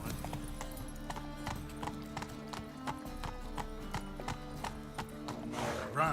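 A horse gallops in The Witcher 3, its rapid rhythmic hoofbeats steady and fairly quiet, with a brief neigh near the end.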